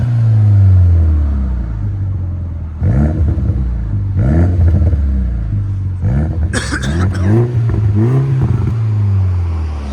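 Exhaust of a 2016 Mini John Cooper Works with a 2.0L turbo engine and muffler delete: a deep idle rumble broken by several sharp throttle blips, close and loud.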